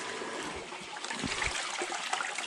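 Water rushes steadily through a gold sluice box, washing out prospecting concentrates in Alaska; a close, continuous trickling and gurgling flow with no voices.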